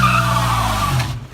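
A non-turbo Ford Ranger pickup spins its tires in a burnout, producing a loud, close, sustained engine roar mixed with hissing tire noise that holds steady for about a second before dropping away.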